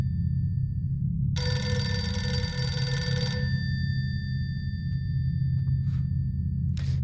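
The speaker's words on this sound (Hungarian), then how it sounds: "mielőtt fölveszem ezt a telefont" A telephone ringing in the horror video game The Mortuary Assistant: one bright electronic ring burst lasting about two seconds over a low steady droning ambience, followed by faint short tonal blips, with no talking.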